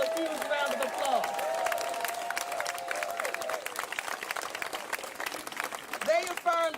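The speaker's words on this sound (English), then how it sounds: "Give them all a huge round of applause." Audience applause at a live event honoring the Smokin' Joe Frazier Champions Foundation in Philadelphia, a steady wash of clapping with some crowd noise and a voice over it, holding throughout.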